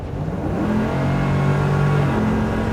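A re-engineered classic Chevy K5 Blazer truck cruises past with a steady, loud engine drone and a rising tonal whir, sounding close and continuous with no talking.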